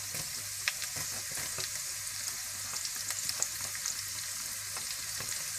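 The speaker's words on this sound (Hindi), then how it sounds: "इसके बाद आप साबुत जीरा भी डाल दें और लहसुन भी डाल दें।" Whole cumin seeds and garlic frying in hot oil for a tarka, a steady close sizzle with scattered small pops and crackles throughout.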